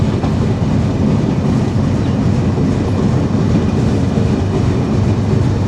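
The Rupashi Bangla Express runs from Dhaka toward Benapole with a loud, continuous rumble of wheels and carriages and a steady clickety-clack close by, with no voices.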